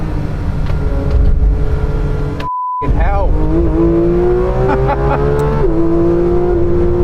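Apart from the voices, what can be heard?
Manthey racing car engine on track laps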